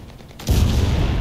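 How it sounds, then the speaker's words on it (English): A mortar shell in the WWII video game Enlisted, a sudden heavy boom after quieter ambience, followed by a deep rumbling roar that lingers to the end. "That was a mortar."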